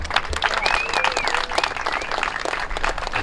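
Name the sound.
applause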